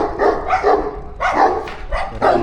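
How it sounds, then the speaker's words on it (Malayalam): Two dogs on a street in Portugal bark in loud, close bursts, about five or six sharp barks in quick uneven rhythm with no talk over them. "2 പട്ടികൾ."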